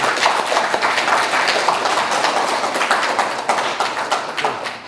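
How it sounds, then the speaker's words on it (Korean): Audience at an academic lecture at a Confucian academy applauds steadily, a dense sustained clapping from a roomful of hands lasting the whole stretch without talk. "박수 한번 쳐주세요"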